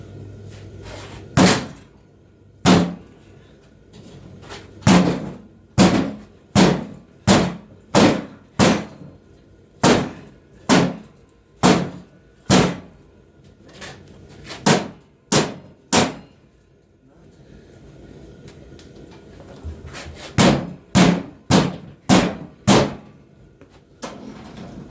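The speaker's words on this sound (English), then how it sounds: "Man, I'm gonna try to hammer it again." A stuck wheel on a snow winch is struck with a hammer in loud, sharp metallic blows, fired off in quick rhythmic bursts with short pauses between, close up and mostly alone.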